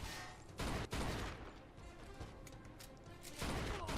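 Gunfire in Mafia 2 rings out as sharp bursts at the start and end, with a loud crack near the middle, over a busy, dense game soundscape and no talking.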